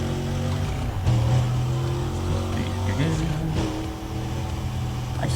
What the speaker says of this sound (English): I just love the engine note of this car. It just sounds powerful.